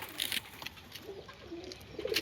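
Giribaz pigeons coo softly in short, low, throaty calls a few times in quick succession, close by, with light rustling around them.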